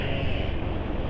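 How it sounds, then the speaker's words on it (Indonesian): A car's steady, dense engine drone with a low exhaust rumble, after removal of an aftermarket capacitor, continuous and fairly close, with no speech. "getaran mesin, raungan suara knalpot bikin feelingnya tenaga itu makin"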